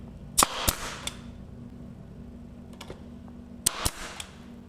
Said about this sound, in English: you want to nail your pieces together